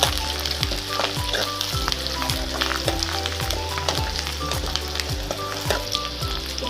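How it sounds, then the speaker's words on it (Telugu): Dried red chillies fry in a pan in a loud, steady sizzle, with a regular scraping rhythm of stirring running through it. The sound is close, and nobody speaks. "అలాగే ఎండుమిరపకాయలు కూడా వేసుకోవాలి"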